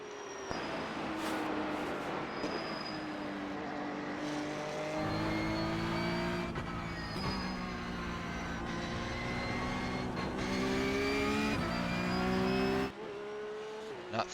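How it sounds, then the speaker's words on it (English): Race car engines in the iRacing Porsche 911 Cup (992.2) at the Nurburgring Combined track whine and rise through the gears, with several close revving and shifting passes and no talk. "I can hear other cars, so there are some behind me."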